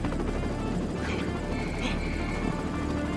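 A helicopter in GTA Online beats with a dense, loud rotor chop and engine roar, close and steady, with faint voices briefly above it.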